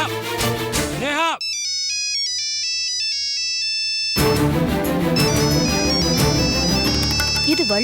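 A mobile phone rings with an incoming call, its melodic ringtone loud and clear, playing over music and background sound before and after.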